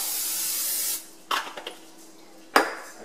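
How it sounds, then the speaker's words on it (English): A steady spray of olive oil hisses into a casserole for about a second, followed by a few light clinks of cookware and a final short burst of spray. "you will be spraying the casserole with olive oil"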